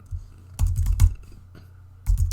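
Computer keyboard typing in short bursts of rapid clicking keystrokes, close and fairly loud, with quiet pauses between bursts and a low background hum.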